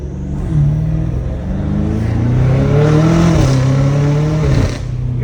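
BMW M5 Competition engine revving loudly and close, a sustained rising and falling roar over about five seconds with a few sharp shifts in pitch, and no clear exhaust pops standing out.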